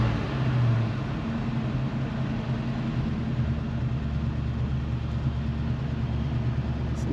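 A 1970 Ford Mustang idles while warming up, its engine a steady low rumble with an even, continuous throb held close and alone for several seconds.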